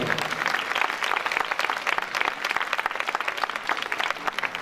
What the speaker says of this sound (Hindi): सबके लिए भरपूर तालियां बजाएगा।